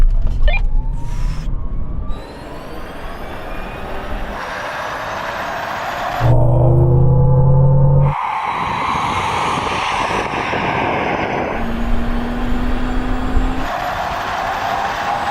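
A Tesla Cybertruck and a Hummer pickup accelerate hard side by side from a rolling 30 mph, with a loud, steady road and drivetrain roar that swells into a brief whining surge midway, then settles back to a continuous rush.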